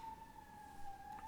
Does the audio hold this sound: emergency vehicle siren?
yes